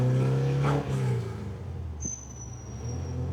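A Porsche 914 engine pulls in second gear, a steady droning hum with a strong low rumble heard from inside the car, fairly quiet and sustained with no talking.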